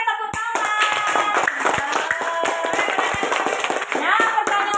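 Elementary school students in a fourth-grade classroom clap their hands together in a brisk, rhythmic burst of close, sharp claps, with children's voices chattering over the clapping.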